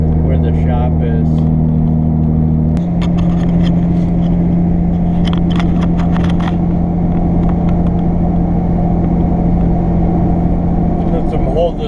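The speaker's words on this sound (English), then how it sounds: "every time I have to slow down and shift, I have to pull the camera back" A standard-transmission truck driving on roads in Western New York, a steady loud engine drone with a pitch change as it shifts gears early on, heard from inside the cab.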